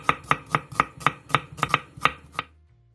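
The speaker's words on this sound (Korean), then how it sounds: "애호박 1개, 당근 3분의 1개, 양파 1개는 얇게 채 썰어주세요" A kitchen knife strikes a cutting board while thinly julienning zucchini, carrot and onion, about eleven crisp, evenly paced chops close up before the cutting stops and the room goes quiet.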